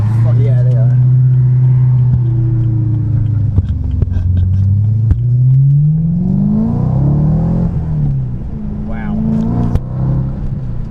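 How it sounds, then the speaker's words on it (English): A modified BMW E92 M3 with a performance air intake revs up and down inside the moving car, its engine note climbing and falling loudly with intake whoosh while a passenger briefly exclaims. "And you hear that extra, like, up here? That's the air intake from the performance filter."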